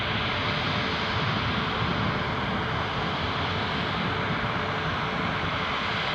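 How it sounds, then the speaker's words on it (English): Steady broadband roar of a British Airways A320 airliner's jet engines at Newcastle airport, a constant loud wash of noise holding level for the whole stretch with no talk over it. "So let's stay with this British Airways A320 Heathrow bound."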